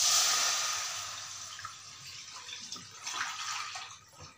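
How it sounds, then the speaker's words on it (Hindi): One litre of milk is poured into a kadhai while making caramel rice kheer, giving a steady splashing pour that gradually fades, with no one speaking. "तो यहाँ पे हमने 1 लीटर दूध ऐड कर लिया है।"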